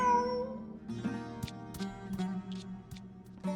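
A cat in the Genshin Impact video game meows several times in soft, drawn-out calls over a low, steady ambient game background.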